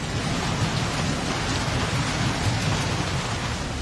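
Heavy, continuous rain pours down in the hills of Bhadarwah amid flooding, a dense, steady roar of falling water with no voices and no letup.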